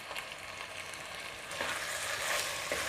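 Spices including turmeric, chilli and mutton masala sauté in oil for a mutton curry, a continuous close sizzle that grows a little louder partway through, with faint stirring scrapes and no voices.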